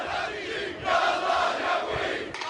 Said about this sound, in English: the Al Jazeera crew is warming up the crowd in time for their next live report